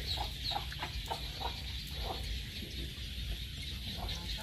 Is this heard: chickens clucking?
yes